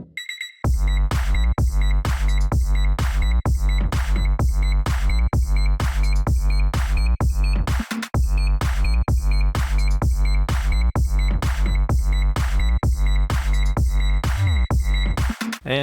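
An EDM loop built from microwave sounds plays loud and continuous, with a reverb-soaked beep riding over a heavy sidechained bass that pumps in a steady, driving rhythm with a brief dropout midway.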